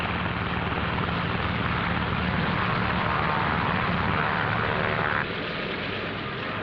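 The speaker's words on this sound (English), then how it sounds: "Navy F-6F mother control planes are catapulted from the carrier's flight deck." Roaring engine and catapult noise as Navy F6F planes launch from the flight deck of USS Shangri-La at sea, a loud, steady, broadband rumble that drops slightly near the end, with no voices.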